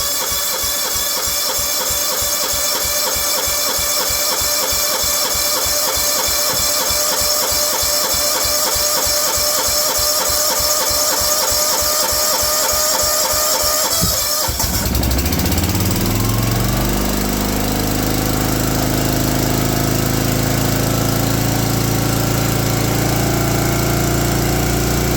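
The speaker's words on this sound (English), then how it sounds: "think this engine just makes a ton of noise." A small lawn mower engine runs loud and steady with a fast pulsing chug, then the pitch shifts and it settles into a rougher, higher roar.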